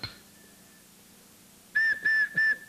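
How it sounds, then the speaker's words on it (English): The whistle head of a handmade boxwood recorder is blown, giving a faint thin tone first, then three short, clear, loud whistle notes in quick succession near the end. "Now we've got one note, we've got the whistle"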